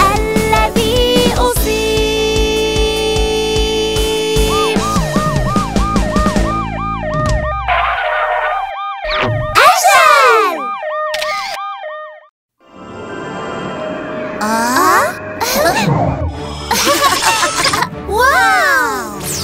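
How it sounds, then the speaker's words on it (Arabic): Wavering siren wails rise and fall over a busy, bright children's song, mixed with singing voices and playful sound effects. "وي وي وي يرن جرس الإنذار"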